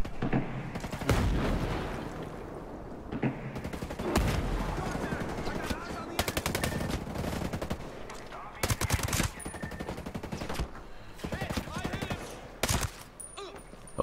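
Gunfire in the video game Ghost Recon Breakpoint, with repeated sharp bursts and single shots coming in irregular clusters, some loud and close, some thinner and farther off.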